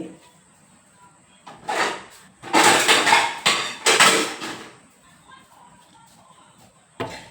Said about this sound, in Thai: อันนี้ก็มาตักใส่ถ้วยนะคะ